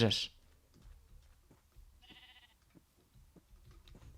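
A Minecraft sheep bleats in short, wavering calls against a quiet background, with a few faint clicks and a sharp noise at the very start.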